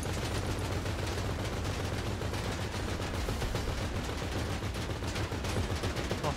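Rapid bursts of gunfire in the video game GTA V, dense crackling shots fired in quick succession throughout, loud and close with no pauses.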